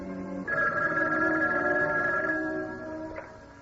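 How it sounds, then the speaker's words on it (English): A telephone bell rings in one sustained electric trill, loud and near, then cuts off, in an old-time radio drama setting. "when the phone rang"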